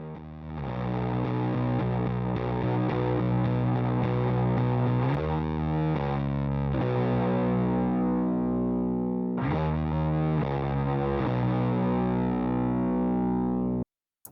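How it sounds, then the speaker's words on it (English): An instrument recorded through a mic preamp and a distorted amplifier plays sustained, heavily compressed chords that ring steadily, with two brief breaks before the sound resumes and then cuts off at the end. "And then of course we took it a step further and we added the distorted amp sound."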